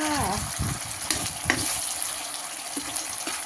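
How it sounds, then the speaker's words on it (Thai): Canned fish and eggplant stir-frying in a pan with red curry paste, a steady sizzle with scraping stirs and clinks, and someone talking briefly at the start. "อันนี้ผัดปลากระป๋องมะเขือค่ะ"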